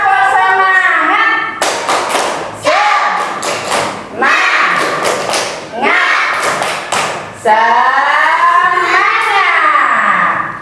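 A class of elementary schoolchildren performs a rhythmic spirit clap, loud hand claps and thumps landing in short patterned bursts while their young voices chant along between the beats.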